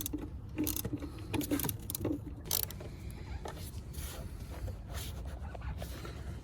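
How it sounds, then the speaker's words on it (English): A flat screwdriver tightens a bolt on the throttle body of a 2013 Chevy Equinox with a 2.4 Ecotec engine, making a series of faint, irregular metallic scrapes and clicks close up against a steady low hum. "we're gonna go ahead and tighten this up with a flat"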